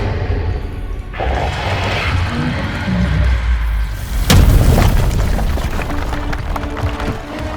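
Bombs go off in the video game Guardians of the Galaxy aboard the Nova Corps station, with heavy rumbling booms and one sharp, loud blast midway amid continuous crashing action noise.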